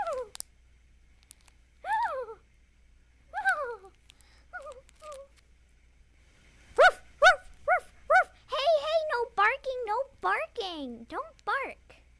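A cartoon dog barks in a series of short, sharp yips, sparse at first and then in a quick run of several barks, alongside animated character voices.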